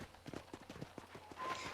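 In the video game Red Dead Redemption, a horse's hooves clip-clop in a quick, even rhythm, faint and close by, over a quiet background.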